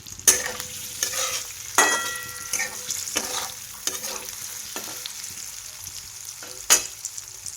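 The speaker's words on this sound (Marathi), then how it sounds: "हे पनीर आहे, तर ते थोडंसं भाजून घेणार आहे" Homemade paneer is lightly fried in a pan with a moderate, steady sizzle. Repeated spatula scrapes and knocks sound against the pan at irregular intervals, and no one speaks.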